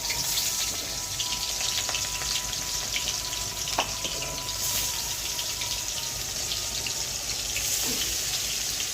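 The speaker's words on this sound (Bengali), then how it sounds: "এই যে মাছ কড়াইতে দিলাম।" Fish pieces of catla belly, coated in salt and turmeric, fry in a wok with a loud, steady, dense sizzle that carries on throughout, with faint clinks above it.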